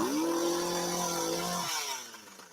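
A chainsaw revs steadily while cutting into a cornstarch-and-water mixture, its engine tone holding loud and even before dropping off and winding down near the end.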